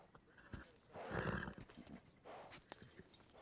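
A mustang whinnies loudly up close, a shrill, rising neigh, with hoof clomps and scuffling around it and a second, shorter whinny afterward.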